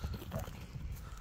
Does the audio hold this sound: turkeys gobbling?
no